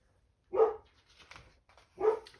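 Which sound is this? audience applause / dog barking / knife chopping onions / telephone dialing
dog barking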